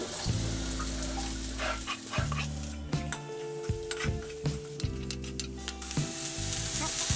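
Onion sizzles and fries in a hot pan alongside chili, garlic and ginger for a street-style bottle gourd and chana dal dish, a steady close crackle with stirring clatter throughout and no talking.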